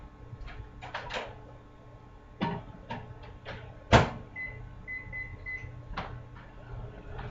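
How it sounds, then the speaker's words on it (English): Microwave oven cooking taco meat: a low steady hum runs beneath scattered kitchen clicks, knocks and a louder bump near the middle, with a faint beeping tone partway through. "then I'm going to put this in the microwave to cook"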